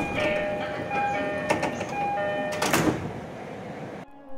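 Door chime on a JR East E231 series 1000 commuter train car, heard as a repeated two-tone electronic ding over the carriage's rumble and the movement of a sliding bare stainless steel door, ending with a clunk.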